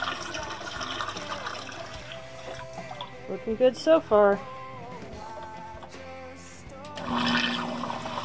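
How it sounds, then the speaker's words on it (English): Clean water is pumped into a home fish tank, giving gurgling, bubbling pours with a few louder splashing glugs mid-way, close by, while a person talks briefly over it. "This is the nice clean water going in now."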